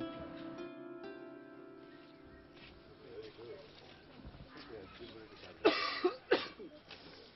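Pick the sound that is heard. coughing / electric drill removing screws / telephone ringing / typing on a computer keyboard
coughing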